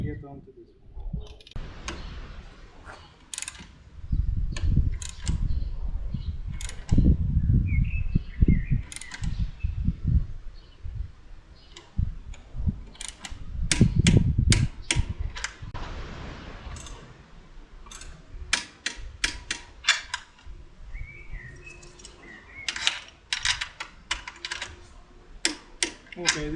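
Bolts being torqued on a KTM 390 Adventure motorcycle make sharp metallic clicks and ratchet ticks in irregular bursts, spread across someone talking close by.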